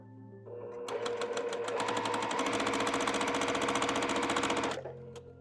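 Sewing machine stitching pieces of a churn dash (monkey wrench) quilt block, a steady rapid needle clatter that runs continuously for about four seconds, close and loud, then stops with a brief quieter tail.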